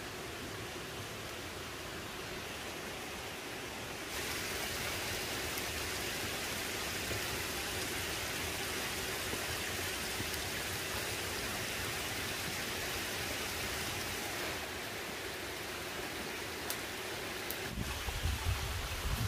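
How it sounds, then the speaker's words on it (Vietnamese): Rain pours down in a forest in northwest Vietnam, a dense steady hiss that thickens into a heavier downpour midway, with gusts of wind adding rumble near the end. "bây giờ gió nhiều quá, mưa luôn rồi"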